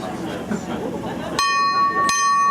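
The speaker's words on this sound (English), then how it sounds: "And there's the first bell." A bell rings twice at a lawn bowls final, two bright sustained strikes with ringing overtones that cut through crowd chatter and talk before them.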